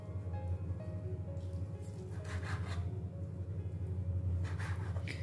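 Knife cutting chicken into small cubes on a board, repeated soft rubbing slices over a steady low kitchen hum.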